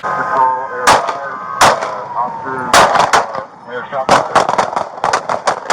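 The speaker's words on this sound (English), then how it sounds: "Shots fired again. Shots fired at the vehicle." Gunshots ring out during a police chase: about a dozen sharp, loud cracks, a few spaced apart early on, then a quicker cluster of rapid shots near the end, over a background hum and brief muffled voices.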